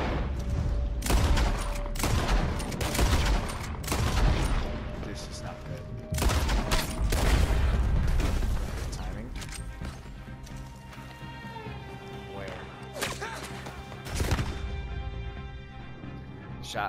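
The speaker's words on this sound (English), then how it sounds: "Shot all around me." Gunfire in the video game Most Wanted, loud sharp bursts cracking around the player in rapid volleys, easing into sparser single shots with a few clattering hits and a voice now and then.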